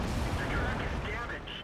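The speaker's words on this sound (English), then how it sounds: "uh-oh, I'm getting shot at" Enemy tank cannon fire in the World of Tanks game booms and rumbles in a dense, loud burst of battle noise, with a voice talking over it.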